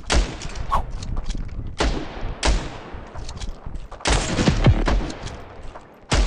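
Rapid bursts of gunfire in the game Standoff 2, several sharp loud sniper shots with echoing tails spread across the clip, a few close together.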